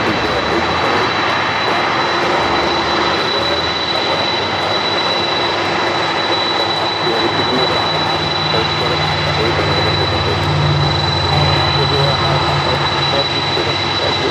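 Boeing 747 jet airliner on short final approach at LAX, a loud steady roar of engines with a high whine holding throughout, close and continuous, with voices talking faintly beneath it.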